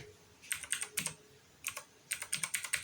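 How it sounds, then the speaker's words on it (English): Keys clatter on a computer keyboard in short bursts of rapid taps, separated by brief pauses, close and fairly crisp with no talking. "What I'm going to type in is just type in recorder this time."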